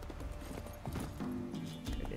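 A horse gallops in The Witcher 3: Wild Hunt, its hooves beating a quick, steady clip-clop rhythm that stays close and fairly loud over a low game backdrop for about two seconds.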